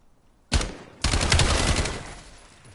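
Two sharp bursts of gunfire from the Black Ops shooter game in a multiplayer match, a single shot followed half a second later by a longer sustained volley that fades out.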